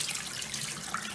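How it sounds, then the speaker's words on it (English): Tap water pours directly onto a bar of soap in a sink, a steady close splashing stream without voices. "So turn on the water"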